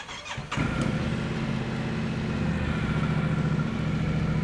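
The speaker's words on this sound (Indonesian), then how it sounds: "Kita nyalakan." A Yamaha Tenere 700 World Raid motorcycle with a 270-degree twin is cranked, catches about half a second in, and settles into a close, steady idle with a low throbbing note.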